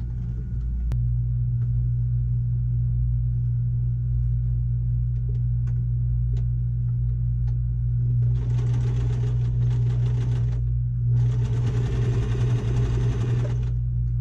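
A sewing machine topstitching fabric on stitch length 3 for a pouch, two bursts of fast stitching over a constant low motor hum, close and fairly loud.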